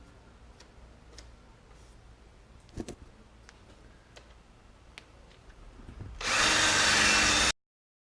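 A power drill spins a 3M adhesive remover wheel on vehicle paint. A few soft clicks and taps lead into a loud, close, high whir that lasts just over a second and stops abruptly.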